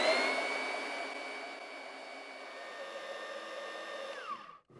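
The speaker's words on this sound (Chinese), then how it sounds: "再次启动主机。" A ground screw installation machine's motor running, a steady high whirring whine that fades slightly, then winds down and cuts off at the end.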